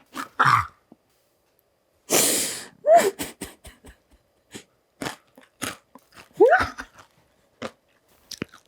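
Crunchy rolled Takis tortilla chips are bitten and chewed close to the mic, loud crisp crunches in irregular bursts separated by near silence, with a few soft breaths and mouth sounds between bites.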